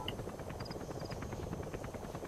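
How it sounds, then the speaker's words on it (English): Helicopter in Metal Gear Solid V: The Phantom Pain, a steady rotor drone with rhythmic chopping pulses holding at even loudness throughout, with faint game beeps layered on top. "here comes my chopper"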